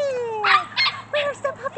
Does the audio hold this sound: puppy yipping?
yes